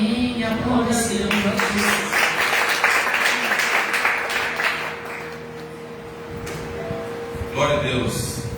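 Congregation clapping during a Sunday church service, a sustained burst of many hands applauding for several seconds that fades out, while a voice speaks over it.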